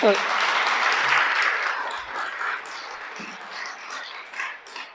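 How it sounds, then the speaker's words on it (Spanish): Congregation applause during a Spanish-language church sermon, a broad wash of clapping from a crowd that starts loud and gradually thins out over several seconds. "Dale un aplauso pues al creador"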